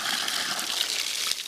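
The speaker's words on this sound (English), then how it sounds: "I'm going to put some water in this." Water pours in a steady hissing trickle into a container set out for desert wildlife, close and continuous for a moment with no talk.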